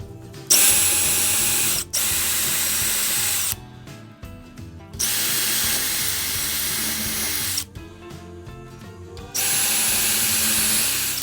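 Power drill boring holes into wood for a custom boat cup holder, in three long loud bursts separated by short pauses, close up with no talking.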